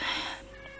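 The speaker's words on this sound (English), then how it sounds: "that's a cat." A cat meows once, a short, fairly loud call that trails off quickly, with faint background sound behind it.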